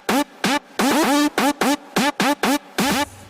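A Laser Fiend synth patch plays a choppy rhythmic phrase of about ten short bright stabs with rising pitch sweeps, loud and close, alone without voices.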